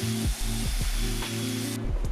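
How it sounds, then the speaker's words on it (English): Belt sander working the end grain of a wooden dining table leg, a steady loud grinding drone with a few brief dips as the sander shifts or lifts, ending abruptly. "I'm finishing up with a belt sander instead"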